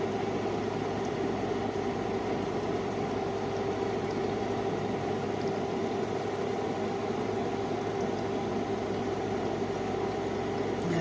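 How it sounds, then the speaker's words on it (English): An air conditioner runs nearby, a steady unbroken hum and whoosh of moderate loudness with no talking over it. "I have to think I'm standing over the air conditioner."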